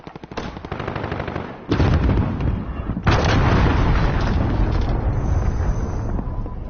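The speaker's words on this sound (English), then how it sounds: "Enemy cruise missile incoming." Explosions and heavy gunfire from a video game's incoming enemy cruise missile strike, a continuous loud rumbling barrage with two sharp blasts that raise the intensity further.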